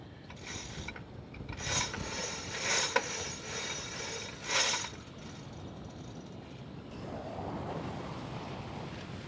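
Aboard the Kraken 58 sailboat on the Solent, the winch and pulleys give several rapid ratcheting bursts as the jib is let out, over steady wind and waves washing against the hull.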